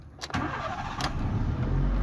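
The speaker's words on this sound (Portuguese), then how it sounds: "Agora vamos colocar o carro para funcionar." A 2011 Fiat Uno Way starting up close by: a quick starter crank that catches almost at once and settles into a steady idle.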